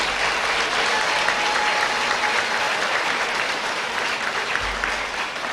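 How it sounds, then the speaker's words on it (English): A high school audience at a senior awards night gives students a loud, sustained round of applause, steady throughout with no talk over it. "if you'll give all those students another giant round of applause."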